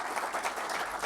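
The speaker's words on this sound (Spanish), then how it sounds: "Un fuerte aplauso." A brief, even burst of audience applause at a ufology congress lecture in Barcelona, a dense wash of many hands clapping at moderate distance.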